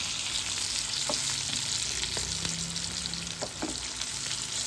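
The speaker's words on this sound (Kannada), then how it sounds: "ಆಲ್ರೆಡಿ ಸಣ್ಣ ಮೆಣಸಿನ್ಕಾಯಿ ನೋಡ್ರಿ ಫ್ರೈ ಆಗ್ಯದ." Small green chillies fry with masala in hot oil, giving a steady, close hiss of sizzling, broken by a few soft scrapes of stirring and no talk.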